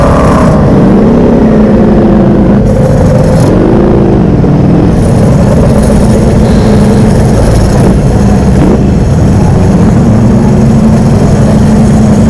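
A Ducati motorcycle with a dry clutch rides along, its engine droning loud and steady for the whole stretch with shifting pitch as the rider works the throttle.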